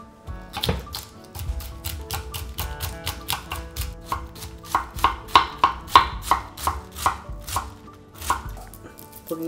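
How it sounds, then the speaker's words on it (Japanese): A knife chops cabbage into thin strips rapidly and steadily on a cutting board, dozens of crisp, even strokes close by with no talking. "キャベツも人参と同様に細く切っていきます。"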